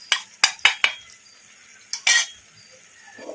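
A metal spoon clinks sharply against a pan while chicken fry is stirred with masala powder, four quick knocks, then a pause, then a scraping stir and a soft sizzle, close and without talk.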